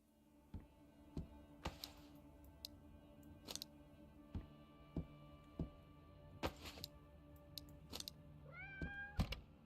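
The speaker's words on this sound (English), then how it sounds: "Yes, yes, cat, I know." A cat in the survival video game Road to Vostok meows, with a rising, wavering call near the end, over steady game ambience and scattered clicks and thuds.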